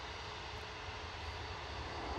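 An easyJet Airbus A320neo departs, a faint, distant, steady jet engine drone with a low rumble throughout the brief moment, no voices.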